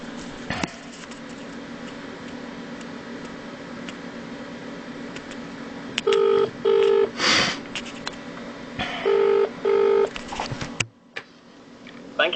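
A telephone keypad dials a police non-emergency number, with a handful of short beeping tones in two quick pairs, followed by a brief burst of clatter and a steady low hum underneath.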